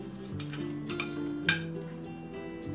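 Cooked Cantonese sticky rice with Chinese sausage and mushrooms being scraped and spread onto a large pan, giving soft clinks and scrapes of utensil on metal, with one sharper knock near the middle, close by and fairly quiet.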